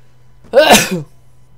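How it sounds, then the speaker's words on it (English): A single sharp human sneeze bursts out close to the microphone, a brief loud blast with a quick intake before it, over a faint steady hum. "that's twice I sneezed so far in a YouTube video"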